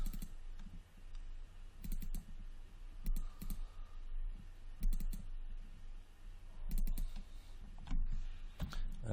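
Computer keyboard keys pressed while modeling steampunk goggles in Maya: a handful of sharp, isolated clicks spaced a second or two apart over a low steady room hum.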